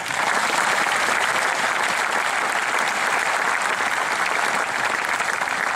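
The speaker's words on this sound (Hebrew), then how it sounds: "מגיע להם כפיים." Loud, dense applause from a large audience at a brigade commemoration ceremony, continuous and close, holding steady throughout without speech over it.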